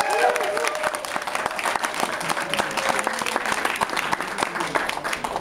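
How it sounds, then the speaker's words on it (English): A school audience at an Odyssey of the Mind event for Pinebrook Elementary keeps up dense, steady applause from many hands. It sounds like a full room clapping with crowd noise and a few voices mixed in. "So please a round of applause for us."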